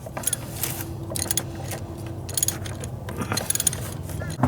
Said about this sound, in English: he's just tightening that sensor on now